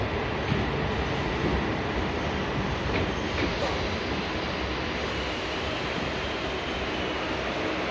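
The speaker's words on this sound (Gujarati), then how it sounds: "કટોસન રોથી ગાડી ચાલીસે અમદાવાદ જવા માટે એક્ઝેક્ટ સાતને પાંચે રાઈટ ટાઈમે નીકળી જઈ છે" Steady low rumble of a passenger train departing Katosan Road for Ahmedabad, rolling along, broadband and continuous throughout, with no voices.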